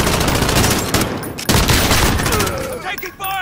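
Rapid automatic gunfire from a Modern Warfare firefight, dense bursts running almost continuously with a sharp crack near the middle, with players talking over it.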